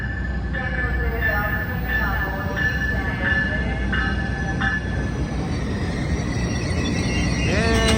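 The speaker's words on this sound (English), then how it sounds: "here comes the train." An Amtrak Capitol Corridor train led by a Siemens Charger SC44 locomotive arrives at Oakland Jack London Square station, a steady rumble of wheels and rail with recurring squeals and a rising approach toward the end.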